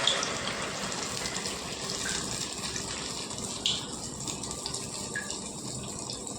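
Urad dal fritter batter drops into hot oil in a kadai, giving a steady, close, hissing sizzle with small bursts as each piece goes in.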